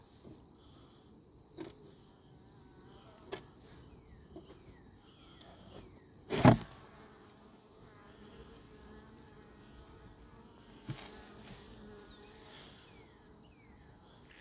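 Bees buzz faintly and steadily throughout, with a few louder close passes and a sharp knock in the middle.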